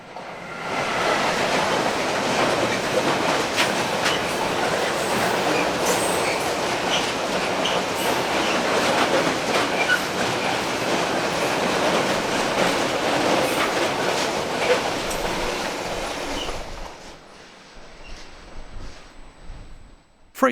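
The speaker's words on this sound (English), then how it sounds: "One 185-577 has charge of a train of potash wagons from Herringen to Hamburg." Freight train of potash wagons hauled by locomotive 185-577 passing Hannover-Linden station: a loud, steady rumble with clickety-clack wheel beats and squeal that runs for most of the stretch, then drops away quickly near the end.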